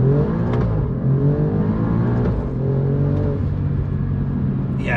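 A green Alfa Romeo Giulia Quadrifoglio accelerating hard, its engine heard from inside as a loud, steady droning roar that rises in pitch through the gear, with no talking.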